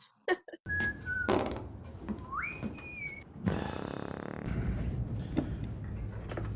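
A man whistles two short rising tones amid thumps and clatter, followed by a burst of noisy rumbling.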